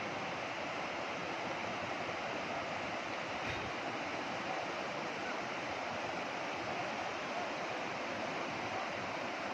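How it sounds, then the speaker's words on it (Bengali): Forest river water flowing past bathers beneath hills, a continuous even rushing roar without pauses, moderately loud and steady throughout. "জলের কি আওয়াজ বন্ধুরা"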